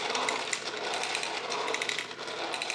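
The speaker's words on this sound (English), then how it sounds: "you don't have to wind them up very much to get the flywheel going" Small 3D-printed flywheel-powered toy robot whirs as its flywheel spins, a steady buzzing, rattling mechanical drone close to the microphone with no talking.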